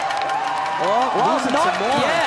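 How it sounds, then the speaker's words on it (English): Crowd cheering along a Crankworx Whistler downhill mountain bike course, a steady roar of shouts and whoops swelling under a race commentator's voice. "the crowd is going wild"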